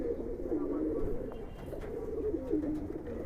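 A Giribaz pigeon cooing close by, a few soft rolling coos repeating over a low background murmur, with no clear speech.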